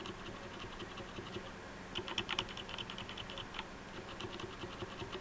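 Keystrokes on an Outemu mechanical keyboard, some keys fitted with O-rings, tap out in soft irregular clusters, a brief busier burst in the middle, quiet and close with no talking.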